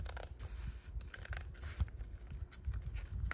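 Scissors snip through planner insert paper in a run of close, quiet crisp cuts and rustles, with no talking.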